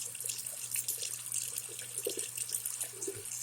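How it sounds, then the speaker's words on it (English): A steady stream of very hot water runs from a tap into a sink, splashing continuously at close range with a low hum beneath it and no talking. "turn on the water until it's very, very hot, nice and steamy"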